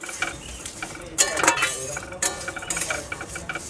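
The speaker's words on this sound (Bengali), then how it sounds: "সিমুইটা আমি এইভাবে ভেজে নিয়েছি।" Vermicelli fries in oil in a wok, heard as close scraping and clinking while it is stirred. Sharper metallic bursts of utensil against pan break up a light background sizzle.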